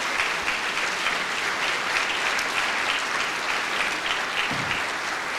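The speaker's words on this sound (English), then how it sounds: "Please give me a round of applause to thank them." Audience at a community foundation annual meeting applauding, a continuous, even roar of many hands clapping throughout.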